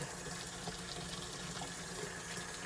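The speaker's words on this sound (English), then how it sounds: "So then we'll add some cold water and we'll let the figs soak in that mixture for a couple minutes." Cold tap water runs steadily into a bowl of figs being washed for fig jam, a continuous close splashing rush that fills the whole stretch with no voices.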